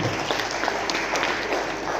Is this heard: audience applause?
yes